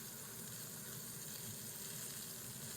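Fillet steaks searing in a pan, a steady, faint, even sizzle and crackle of frying with no talk.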